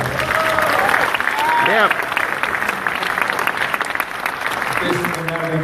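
Audience applause fills a veterans town hall at the Brentwood VA, a dense steady clatter of many hands, with a voice talking over it and a brief cheer before it thins out toward the end.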